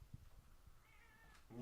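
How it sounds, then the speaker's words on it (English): A pet cat named Bella meows at a door, a faint, drawn-out cry heard from a distance in a quiet room, with a second, closer meow at the end. "my cat is meowing at the door"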